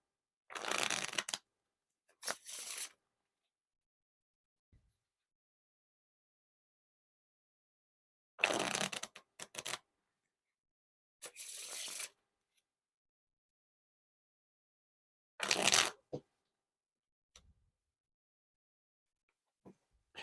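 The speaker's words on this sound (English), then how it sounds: "And this is one way to mix up the cards." Coca-Cola playing cards riffle-shuffled in short crisp bursts, four quick flurries separated by pauses, close and fairly loud with no voices.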